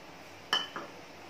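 A spoon clinks against a bowl while mixing Eno fruit salt into milk for a three-ingredient chocolate cake batter: two brief, light metallic taps close together, then a quiet room with no voices.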